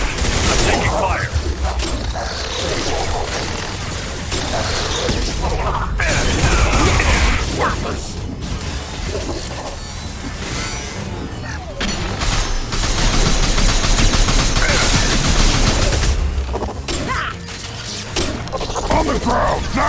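Dense gunfire from the Horizon mission in Mass Effect 2 rattles on almost without a break for twenty seconds, loud and close, with mechanical clatter and voices speaking over the battle.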